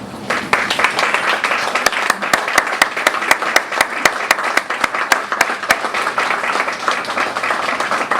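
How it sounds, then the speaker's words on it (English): An audience at an indoor Memorial Day celebration applauds veterans and Gold Star mothers, steady crowd clapping lasting several seconds, with one distinct, regular clap ringing out sharply above the rest. "we could give them a round of applause"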